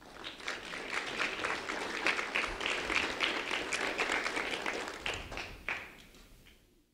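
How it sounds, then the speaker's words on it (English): Audience applause at a community honors event fills the room, dense and steady for several seconds before tapering off near the end, moderately distant and without speech over it. "please, a round of applause for Ilian Juan Pascal and Tyler Farron, please"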